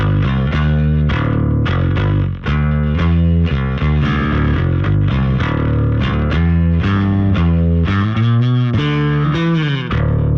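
Bass guitar through a pedalboard with a Boss HM-2W set for a supposedly clean tone, playing a busy riff of plucked notes that sound thick and slightly effected, loud and close with no talking.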